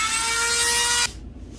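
A Dremel rotary tool whines steadily at high speed while drilling a hole through a mounted hooded merganser bird, then cuts off abruptly, leaving quiet room tone.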